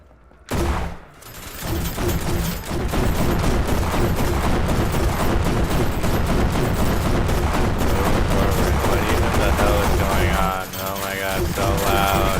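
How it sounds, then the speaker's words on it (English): Dense, loud barrage of gunfire and explosions from a battle in the video game Kinki Spiritual Affairs Bureau, a sustained wall of rapid shots and blasts running nearly the whole time after a brief quiet start. "Why are there a bunch of explosions?"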